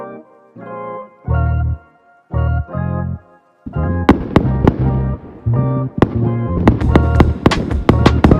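New Year's Eve fireworks at a wedding: a series of deep booming thuds at first, then rapid sharp cracks and bangs bursting one after another, loud and fairly close.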